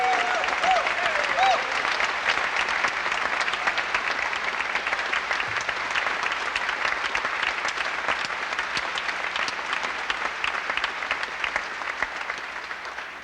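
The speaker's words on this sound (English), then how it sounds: "Would you please give a great big round of applause" A large audience at an Air Force band Christmas concert applauds steadily for several seconds, a dense, sustained clapping that fades slightly toward the end, with a voice briefly heard at the start.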